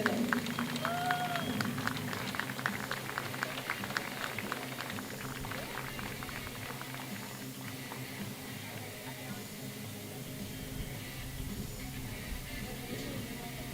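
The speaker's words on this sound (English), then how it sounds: "Please give a big round of applause for these men and women." Crowd applause rises for service members honored before a high school softball game, a broad steady wash of clapping filling the outdoor stands and slowly thinning toward the end.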